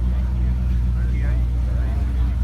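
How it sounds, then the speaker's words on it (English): A Yenko car's engine rumbles in a deep, steady idle at a Cars & Coffee meet among Ferraris, Porsches and Lamborghinis, a constant low drone that stays level under people talking. "I think I heard the Yanko start up."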